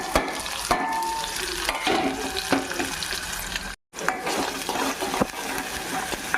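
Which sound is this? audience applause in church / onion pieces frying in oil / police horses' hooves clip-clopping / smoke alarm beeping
onion pieces frying in oil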